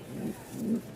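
Racing pigeons, a bred racer pair, cooing close by in two soft low throaty coos in quick succession.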